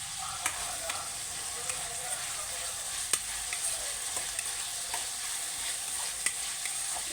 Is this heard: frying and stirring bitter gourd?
yes